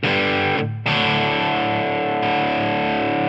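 Distorted electric guitar through a Tonex amp tone model rings out in sustained, saturated chords, loud and upfront with a brief gap before the next strum.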